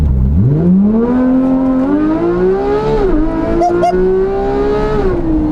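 A high-revving car engine screams upward toward a 9,000 rpm redline, a loud, close, continuous rising whine with steady harmonics and a brief dip mid-pull before climbing again.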